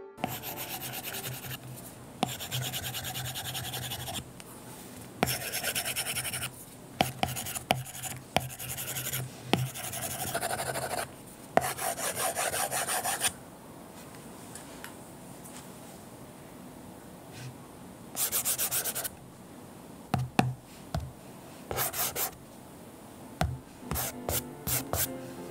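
A stylus writing on a paper-texture screen film makes dry, scratchy, close strokes that come in bursts of varying length, with brief pauses between them.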